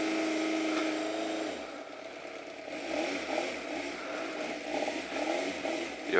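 Yamaha XJ600 motorcycle engine running, a steady idle hum that drops in pitch and fades slightly after the choke is turned off, with a brief rev swelling at the very end.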